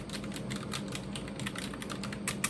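Rapid, steady keystrokes clatter on a Roccat Vulcan 121 AIMO mechanical gaming keyboard with exposed switches, close and crisp, one sharper key hit near the end, no talking.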